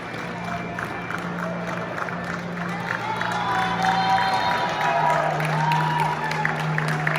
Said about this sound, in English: Crowd's excited.